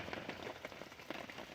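Rain patters outdoors at night in a dense, even drizzle of soft taps on surfaces, moderately quiet and continuous with no voices.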